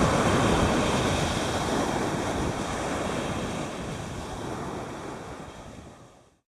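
Atlantic Ocean surf breaking on a South Florida beach, a loud steady roar of waves with wind buffeting the microphone, easing slightly toward the end.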